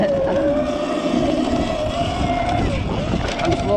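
A Sur-Ron electric dirt bike rides over jumps, its motor giving a thin, steady whine that shifts slightly in pitch under constant wind rush.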